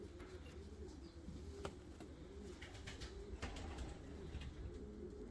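Fancy costume pigeons, a male and a female, coo steadily in a soft, continuous murmur, with a few brief flutters and sharp sounds breaking through.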